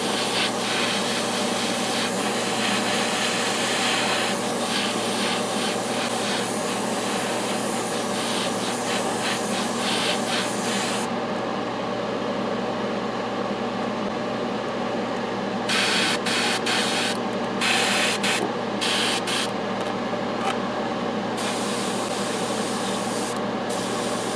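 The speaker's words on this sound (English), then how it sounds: "Let's get some air on there and dry it nice and dry." Air blown steadily across freshly primed Dropzone Commander model kit parts gives a continuous hiss that runs unbroken through the whole stretch, close and loud, with no talking over it.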